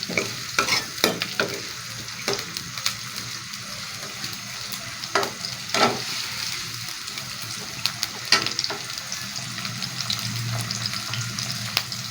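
Pumpkin and chana dal with onion frying in a pan as it is stirred, a steady sizzle under scattered scraping and clinking strokes of the spoon, close and moderately quiet with no talking.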